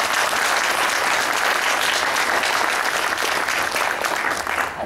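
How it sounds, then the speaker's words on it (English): A steady, full round of audience applause for Dr. Davis at a mental health awareness event, continuous and alone throughout. "Can we have another round of applause, please?"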